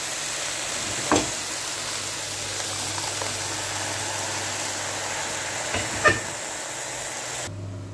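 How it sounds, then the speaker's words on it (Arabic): Okra sautéed in a pan with garlic, chili pepper and tomatoes hisses in an even, steady sizzle, broken by a few faint knocks of utensils against the pan. "شوحنا البامية وحطينا معلقة ثوم وحطينا قرن فلفل"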